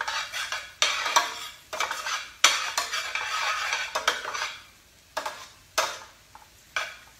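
Spoon scrapes and clinks against a pot as garlic is stirred into a roux for crawfish étouffée, in repeated bursts of several strokes with brief pauses between, close and fairly loud, with no talking.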